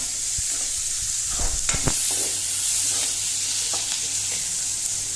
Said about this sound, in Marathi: आतां हो कांदो मातसो फ्राय जावं न्ही।